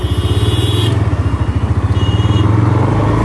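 A motorcycle engine thrums steadily and loudly at close range, its rapid pulsing beat continuing throughout as the bike rides along.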